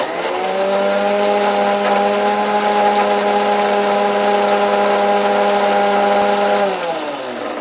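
Close and loud, a kitchen mixer grinder runs a second time with a steady, high motor drone for about six seconds before winding down.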